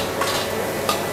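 Singapore fried rice being stirred and fried in a pan, with continuous sizzling beneath two short scraping strokes of a utensil, close and steady.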